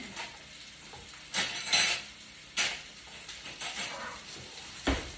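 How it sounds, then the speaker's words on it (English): A mix being stirred in a pot with a utensil, giving intermittent scraping and clinking strokes in short bursts over a faint sizzle, close and fairly clear with no voices. "I'm going to stir it up."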